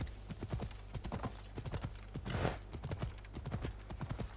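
Horse hooves galloping in Assassin's Creed Odyssey, a fast, steady clip-clop rhythm running throughout, close and loud over a low constant hum, with a brief whinny-like burst midway.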